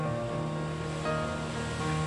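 Onion sautéing in hot ghee with a pinch of cumin for a vegetable oats khichdi, a steady close hissing sizzle with a faint low hum running through, no talking.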